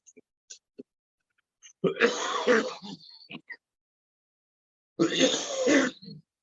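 Two harsh, raspy coughs or throat clearings, a few seconds apart, close to the listener, with small mouth noises around them.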